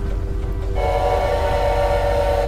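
A train horn sounds over a deep rumbling train in the Choo-Choo Charles horror video game, a sustained tonal blast that swells in after a low steady rumble, loud and continuous.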